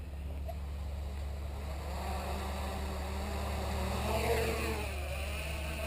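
Quadcopter motors running on a 4S battery give a steady, droning mechanical whine that holds at an even level and swells slightly near the end.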